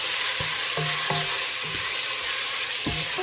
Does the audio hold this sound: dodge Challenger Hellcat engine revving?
no